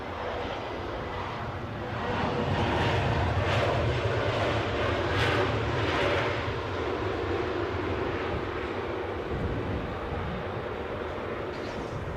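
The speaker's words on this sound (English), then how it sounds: "I think that Emirates 380 is now here." Emirates Airbus A380 arriving at London Heathrow, a steady broadband jet roar that swells after the first couple of seconds and holds loud and sustained throughout, with no talking.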